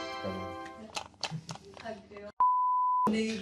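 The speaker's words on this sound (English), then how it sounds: "Do you want to consider changing the buzzer?" A single steady electronic quiz buzzer beep at a trivia game rings out loudly for under a second, right after a stretch of lively overlapping chatter.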